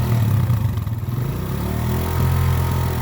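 A new motorcycle pulls away from a stop, its engine revving steadily and fairly close, with a steady mid-pitched drone and some rattle running for the whole stretch and no talk.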